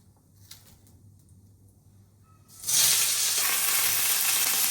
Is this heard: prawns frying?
yes